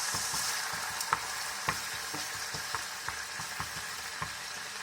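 Pork fried rice with egg stir-frying in a pan, a steady close sizzle punctuated by rhythmic scraping strokes of a spatula roughly twice a second.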